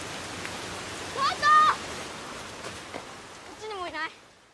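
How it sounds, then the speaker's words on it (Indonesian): Heavy rain pours down over the town of Shima as a dense, continuous hiss, with a few brief higher tonal calls rising over it. "sekarang hujan lebat terlihat mengguyur kota Shima"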